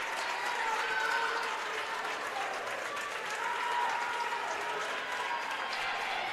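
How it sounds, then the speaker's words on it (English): A crowd of fans cheers and applauds at a high school swimming meet, a loud, sustained roar with no break. "You can hear the fans cheering."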